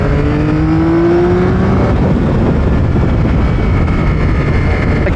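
A Yamaha MT09 or XSR900 GP motorcycle engine revs loud and close, its pitch sweeping upward, over a constant rough roar of wind and road noise.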